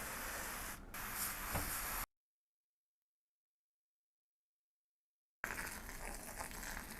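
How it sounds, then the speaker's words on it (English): A handheld spray bottle mists water onto a moss pole for a philodendron, giving a few close hissing bursts separated by a stretch of silence. "I'm just gonna spray the pole."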